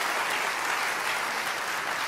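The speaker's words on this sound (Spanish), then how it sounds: "Dele fuerte ese aplauso al Señor." A church congregation claps loudly and continuously, a dense even patter of many hands filling the room without pause.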